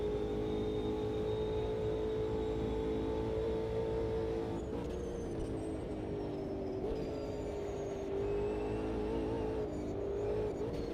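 Racing video game car engine droning steadily at high revs throughout, with pitch shifts as the car accelerates and slides, loud and continuous with no talk.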